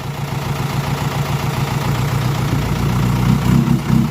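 A six-wheel dump truck's diesel engine idles with a steady low throbbing rumble, loud and close, with no one talking.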